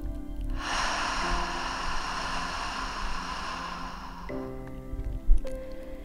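A long, slow, breathy exhale during a guided breathing meditation, close and steady for several seconds, with soft sustained background music tones underneath.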